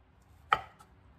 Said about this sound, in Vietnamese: Rồi bây giờ Lan sắc tắc mỏng ra.